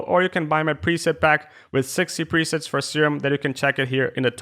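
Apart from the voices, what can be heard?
None of the usual background noises is heard.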